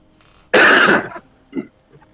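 A single harsh, loud cough or throat clear bursts out close by, followed by a short softer rasp a moment later.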